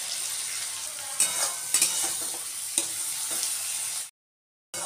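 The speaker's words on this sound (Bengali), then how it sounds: "আমি এর মধ্যে এখন সমস্তগুলো জাস্ট একটু নেড়ে চেড়ে নেবো এপিট ওপিট করে" Onion, tomato, cashews and raisins are stirred and fried in a pan, giving a steady close sizzle broken by a few sharp scrapes of the spoon, before the sound cuts off abruptly near the end.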